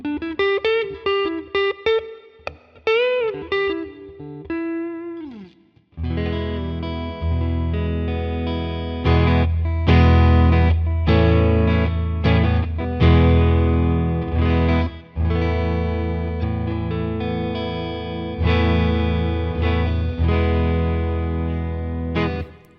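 Electric travel guitar played through its bridge pickup with effects such as chorus and light distortion: a plucked, ringing opening, a brief gap, then a steady run of loud strummed chords and melodic lines with reverb.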